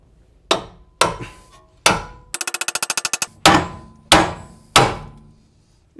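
Hammer blows on a pickle fork driven into a BMW E46 325i Touring ball joint: sharp metallic whacks spaced about half a second apart, then a rapid burst of quicker strikes, then more single heavy hits, loud and close.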